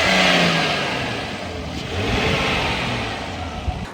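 Exhaust of a Ram truck with the Hurricane engine, a steady quiet broadband rumble with mild revving swells, nearby and continuous with no talking.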